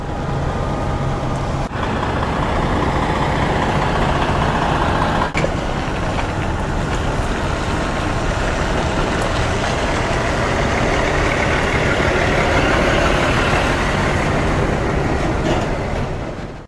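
A continuous, loud rumble of heavy diesel engines idling, steady and dense, with a couple of faint clanks over the drone.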